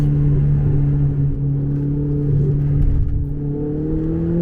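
A Ferrari 488 GTB's engine holds a loud, steady high-revving drone at full throttle, heard from inside the car on the Le Mans circuit, with the pitch climbing slightly near the end and no voices.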